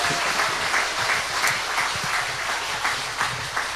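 An audience claps continuously at a political rally or lecture in Korea: steady, fairly loud crowd applause with dense overlapping hand claps, holding an even level throughout with no talking over it.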